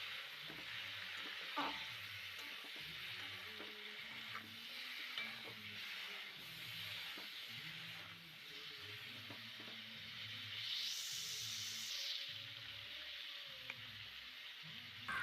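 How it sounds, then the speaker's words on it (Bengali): Vegetables fry in a pan with salt, turmeric and spices for a spinach dish, a soft steady sizzle broken by the scrape and clack of stirring at regular intervals, fairly quiet and close. "আবার একটু ভালো করে নাড়াচাড়া দিয়ে মশলার সাথে মিশিয়ে নেব।"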